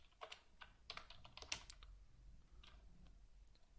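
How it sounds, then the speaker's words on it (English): Code is typed on a computer keyboard as a quick run of close key clicks with short pauses between bursts, with no speech. "here we type in the code which we need for the application to change the text"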